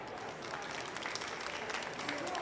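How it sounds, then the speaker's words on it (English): Steady applause from a conference audience at a climate summit pavilion, a dense even wash of many hands clapping at moderate distance, continuing without a break. "Please give a round of applause for everyone."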